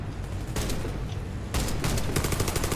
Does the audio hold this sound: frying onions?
no